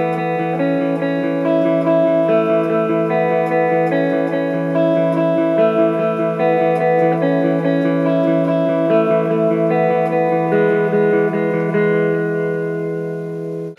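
An electric guitar plays the lead line from the intro of a song, ringing sustained notes with effects and distortion in a steady melodic phrase. No voices.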